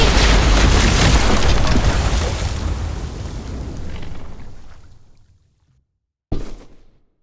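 A bomb blast in The Walking Dead video game erupts as a loud, sustained roaring boom that slowly fades over about five seconds, followed by silence and then a second sharp burst that decays quickly.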